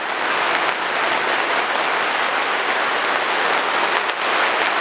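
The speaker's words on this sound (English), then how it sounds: "Got a storm blowed in, guys." Steady outdoor rainstorm hiss, a dense even wash of falling rain on surfaces with no distinct thunder clap standing out; continuous and fairly loud throughout.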